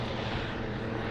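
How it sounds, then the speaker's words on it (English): A helicopter passes overhead above a country park, a steady, fairly loud rotor and engine drone filling the whole brief moment. "Just a helicopter checking me out."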